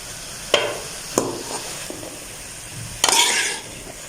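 Carrots and cabbage are stirred in a pan for vegetable macaroni, with a few scraping strokes of the spoon over a faint, soft sizzle and no talk.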